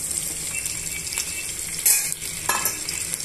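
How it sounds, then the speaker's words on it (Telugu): Finely chopped vegetables, including beetroot, frying in a pan for a healthy stir-fry, giving a loud, continuous close-up sizzle with a few brief stirring scrapes and clinks. "ఇవన్నీ బాగా వేగనివ్వాలండి"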